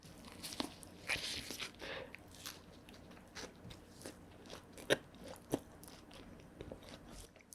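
Quiet crunchy bites and chewing on a Lotteria shrimp burger with crisp vegetables, a few sharp crunches standing out over soft mouth sounds, close up with no talking.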